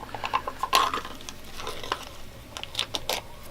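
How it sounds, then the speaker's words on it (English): A two-part silicone rubber mold compound is stirred in its container, giving a busy run of light scraping, clinking and tapping strokes at close range, with no talk. "So now we're going to mix the 2 parts."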